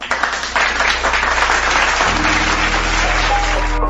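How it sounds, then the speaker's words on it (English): Applause for a university vocal harmony group at an online event, a steady round of clapping that gives way to a low sustained musical tone partway through. "Let us give them a virtual round of applause"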